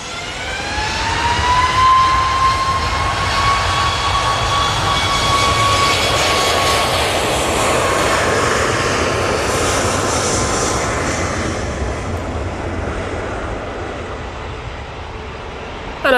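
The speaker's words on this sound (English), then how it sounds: "Ryanair 737 MAX 8 down the roll." A Ryanair Boeing 737 MAX 8 jet at Manchester Airport roars loudly down its takeoff roll, a sustained engine rumble with a rising whine that slowly fades as it pulls away.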